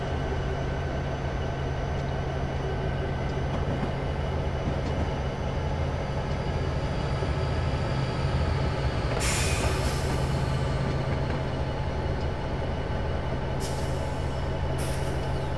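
Locomotive rumble and steady mechanical drone from a train slipping its wheels while climbing Horseshoe Curve in Train Simulator 2015, loud and continuous, with short hissing bursts of air around the middle and near the end.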